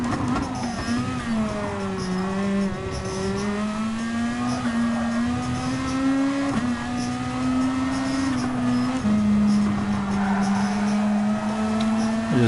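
Gr.2 race car engine in Gran Turismo Sport at the Catalunya circuit, a steady loud drone that climbs in pitch, drops at each gear change and climbs again, with a driver's voice talking faintly underneath.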